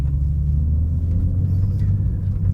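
A 2023 BMW M2 in Sport Plus mode gives a deep, steady engine rumble heard close up for a couple of seconds, with no voices.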